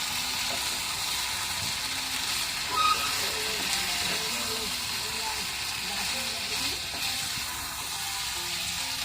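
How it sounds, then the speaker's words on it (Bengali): Potato balls fry in spices in a pan with a steady, close sizzle and hiss that runs throughout, with a faint voice now and then beneath it. "মশলার সাথে দিয়ে পটেটো বলগুলোকে ভালো করে একটু ভুনে নেবো"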